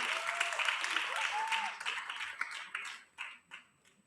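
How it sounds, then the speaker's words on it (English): Audience applause at a children's commencement ceremony, steady and fairly close at first, then thinning into scattered claps and fading out, with a voice briefly rising over the start. "Give all of them a big round of applause."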